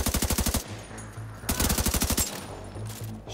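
Rapid automatic gunfire from the video game The Division 2, two loud bursts of closely spaced shots separated by a lull with faint background rumble.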